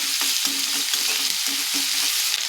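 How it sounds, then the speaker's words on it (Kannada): Ginger garlic paste sizzles steadily in hot oil, a dense crackling hiss with soft rhythmic scrapes of a spoon stirring the pan, close and continuous. "ಸ್ವಲ್ಪ ಹಸಿ ವಾಸನೆ ಹೋಗೋವರೆಗೂ ಸ್ವಲ್ಪ ಫ್ರೈ ಆಗಬೇಕು"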